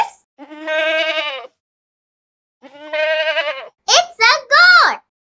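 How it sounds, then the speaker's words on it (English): A goat bleats close by: two wavering bleats separated by a silent gap, then a quick cluster of shorter, higher, sharper cries. "It's a goat."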